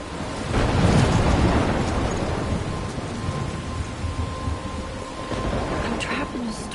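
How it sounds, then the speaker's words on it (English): Steady rain and rumbling thunder from a storm in the video game Life is Strange, a loud continuous downpour with low booming swells and a faint tonal hum throughout. "I'm trapped in a storm?"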